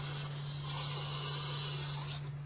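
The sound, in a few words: spraying B12 cleaner into carburetor bowls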